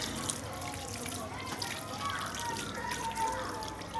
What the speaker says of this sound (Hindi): ये देखें हाथ धो रहा है